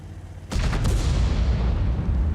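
A tank gun fires in World of Tanks, one sudden loud boom that rolls into a long, heavy rumble and slowly fades.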